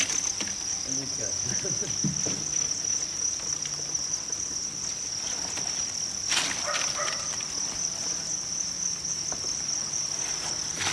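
Dense cricket chirping fills a Vietnamese cricket farm, a continuous high shrill trill with a brief louder burst midway, and faint scattered rustling beneath.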